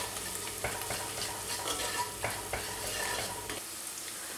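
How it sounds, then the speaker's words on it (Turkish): Tomato and pepper paste frying on sautéed onions in a pan, a continuous soft sizzle broken by several scraping stirs of a spoon, close up and fairly quiet. "Salçalarımı biraz kavuracağım."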